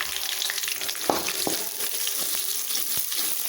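Curry leaves and finely chopped green chillies fry in hot oil for a paratha dish, a steady close sizzle with a few sharp crackles and pops, and no talking.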